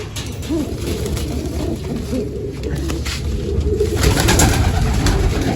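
Pigeons coo repeatedly at close range in a coop, with soft overlapping calls over a steady ambient background.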